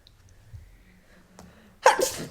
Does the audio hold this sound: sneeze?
yes